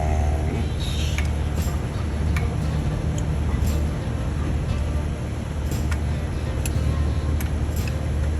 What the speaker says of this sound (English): so I'll just keep going with the wrench